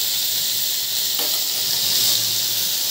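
Washed ridge gourd pieces fry in oil with black cumin, a steady, fairly loud hiss with a faint crackle, continuous and without talk.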